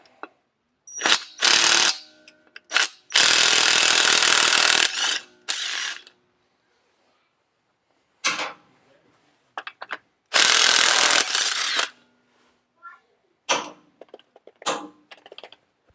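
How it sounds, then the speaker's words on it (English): Lug nuts being spun off a Chevrolet 3500 front wheel with a power impact tool, heard as several loud ratcheting bursts of a second or two each, separated by short quiet gaps. "Now we'll take the lugs off."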